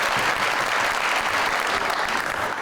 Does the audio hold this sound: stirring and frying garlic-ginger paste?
no